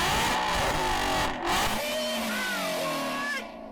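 BMW M4 CS straight-six engine revving loudly up close, with rising and falling pitch sweeps as the revs climb and drop before cutting off near the end.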